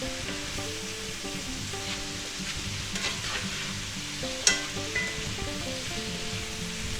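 Shrimp chow mein stir-frying in a pan as chow mein sauce is mixed in, a continuous sizzle with scraping and stirring, plus a sharp clank partway through.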